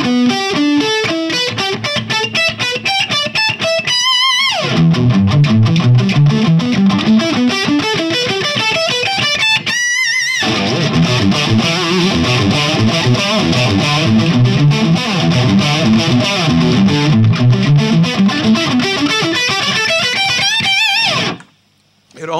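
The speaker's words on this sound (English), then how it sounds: "I continued to take that up the scale in around this position of the guitar." Electric guitar with heavy distortion plays fast scale runs climbing and falling in long sweeping passes, loud and close, with two brief pauses between phrases.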